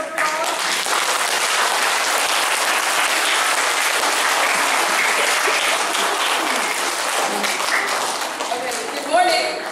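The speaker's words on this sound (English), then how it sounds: "Give Shama a round of applause" A school assembly audience applauds steadily for about ten seconds, dense sustained clapping filling the hall at an even level before tapering slightly near the end.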